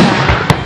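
Fireworks over St George in 2013, a sharp burst or crackle cutting through a dense, continuous roar, close and loud in a brief moment.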